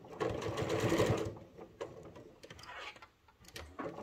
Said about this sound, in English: We're gonna be sewing 1/2 inch seam allowance.